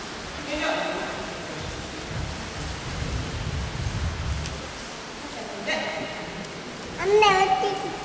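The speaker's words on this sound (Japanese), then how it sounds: "雨落ちてきた" Steady rain falls outdoors during a kata breakdown session, a continuous hiss of drops on surfaces, with occasional people talking over it.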